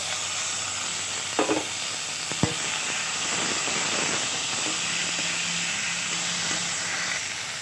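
Tomatoes fry in hot oil on top of a tempering of spices, filling the air with a steady, loud sizzling hiss. A couple of sharp clanks land near the start, and nobody speaks.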